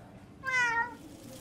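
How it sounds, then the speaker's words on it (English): A cat lets out a single clear, drawn-out meow nearby, rising and falling over the quiet background. "I saved this kitty for you."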